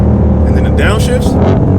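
Loud, close rumble from a 2020 Ford Shelby GT500 engine as it downshifts, with rising and falling blips of revs under a voice talking over it.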